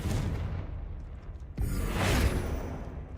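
A Confringo blasting spell goes off in Hogwarts Legacy, a loud burst landing around the midpoint and rolling into a sustained fiery roar that fades slowly, over a low, steady game ambience.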